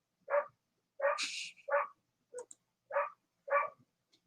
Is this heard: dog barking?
yes